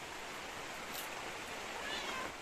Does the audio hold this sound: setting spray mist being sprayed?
no